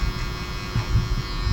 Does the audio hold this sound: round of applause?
no